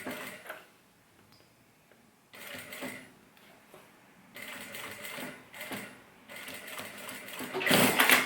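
A sewing machine stitches a shoulder bag in several quick, rattling bursts separated by short pauses, including a brief backstitch, close and fairly quiet.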